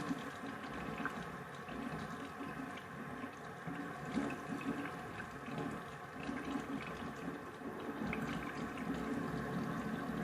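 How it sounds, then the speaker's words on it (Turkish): Water runs steadily from a tap while a strawberry lip brush is rinsed, a continuous even wash of moderate loudness with no voices. "Hemen gösteriyorum çilekli fırçamızı yıkayalım"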